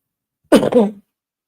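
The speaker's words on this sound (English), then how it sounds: "horrible cough" A single harsh cough, close and loud, breaks out alone in a quiet room and dies away after half a second.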